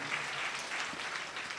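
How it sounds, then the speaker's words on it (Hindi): A church congregation claps together in praise during a Sunday service, a dense, even wash of hand claps heard throughout at moderate loudness. "तो ताली बजाकर प्रभु की स्तुति करें"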